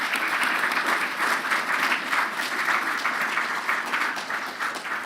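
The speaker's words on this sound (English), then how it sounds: "Let's give a warm round of applause for our brilliant guests, Danny, Annabelle and Claire." A conference audience claps in loud, sustained applause that stays full and even throughout, with a slight tapering toward the end.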